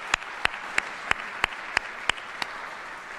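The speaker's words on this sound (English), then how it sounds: "Can we give him a round of applause?" At a military retirement ceremony, slow, evenly spaced claps ring out about three per second, crisp and prominent over a soft murmur of background applause that carries on throughout.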